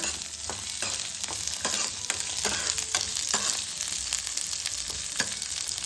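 Fresh grated coconut and onion sizzling steadily in oil in a pan for a Kannada brinjal palya, with recurring scrapes and clicks of stirring over a constant close frying hiss.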